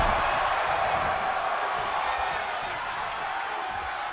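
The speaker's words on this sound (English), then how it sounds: "The sound of this crowd is deafening, and he's asking for more." A dense crowd roar fills a wrestling match in WWE 2K23, a steady wash of cheering and whoops that fades slightly over a few seconds, with no voices standing out.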